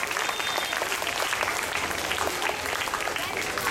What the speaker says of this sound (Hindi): सभी तालियों के साथ बच्चों का हौसला जरूर बढ़ाएं।